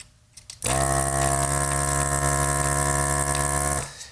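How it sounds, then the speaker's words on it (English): A desoldering tool's vacuum pump sucks solder off a pin inside a Northern Electric Baby Champ radio receiver. It kicks on abruptly as a steady, loud, buzzing motor hum, holds for about three seconds and then cuts off. "Vacuum some of the solder off that"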